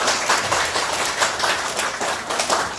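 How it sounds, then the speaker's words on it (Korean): Applause from an audience at a group gathering, a steady wash of many hands clapping at close range for a few seconds with no voices over it. "박수 한번 치겠습니다."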